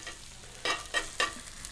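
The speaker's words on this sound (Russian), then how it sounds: "по-хорошему минут 8-9 их надо пожарить, чтобы они приготовились на сковороде" Faint frying of potato pancakes in a pan, with a low sizzle broken by three short bursts of crackling spatter.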